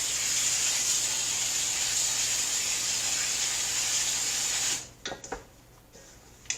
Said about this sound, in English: We're going to use some pan spray for our pan.